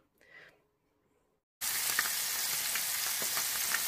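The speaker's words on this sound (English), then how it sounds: "I've added the masala and I'm lightly frying them" A brief faint rustle, a second of silence, then a loud, constant sizzle of sea bass pieces frying with masala in hot oil, with occasional crackles.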